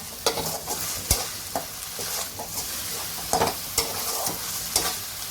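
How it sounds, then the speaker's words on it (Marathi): Masala spices fry in a hot pan for Kolhapuri mutton rassa, sizzling steadily while a spoon scrapes and stirs in repeated sharp clacks and scrapes, close and alone. "आता हा चांगला लाल होऊ दे मसाला"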